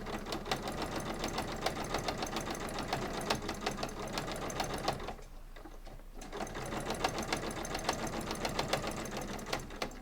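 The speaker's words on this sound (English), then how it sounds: "you're going to continue sewing right along the bottom" A sewing machine stitches along the bottom of a cross body bag, a steady rapid needle clatter running loudly, pausing for about a second midway, then resuming at the same even pace.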